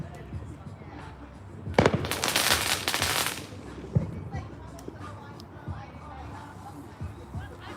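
Fourth of July fireworks explode all around at some distance, with one sharp loud bang followed by a dense crackling burst lasting about two seconds, then scattered duller booms and pops over faint crowd murmur.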